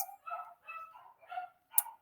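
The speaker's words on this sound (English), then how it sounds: "Excuse my dogs barking in the background." Several dogs bark in the background of a house as someone walks past outside: four short, separate bursts of barking over two seconds, moderately distant, with one sharper yip near the end.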